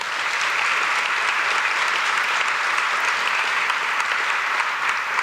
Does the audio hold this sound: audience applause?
yes